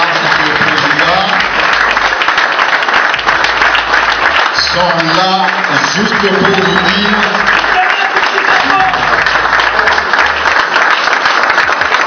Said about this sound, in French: Ces applaudissements qui n'en finissent pas, Excellence Monsieur le Président,